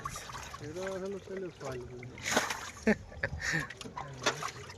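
Caught fish thrash and splash in water during a net haul, irregular wet slaps and sloshing close by, with people talking over the commotion.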